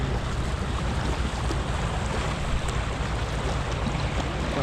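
Boat wake waves slapping against a kayak on the Broads, a continuous loud wash of churning water and wind noise close to the microphone.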